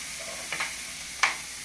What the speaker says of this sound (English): And we got our ribs frying up there.